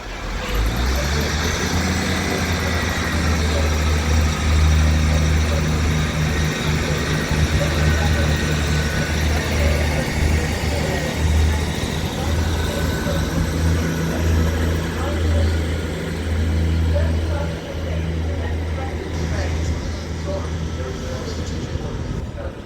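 A Northern Class 158 diesel unit pulls out of Wakefield Westgate station on the Leeds branch, its engine drone loud and throbbing close by, steady then slowly easing, with some talk over it.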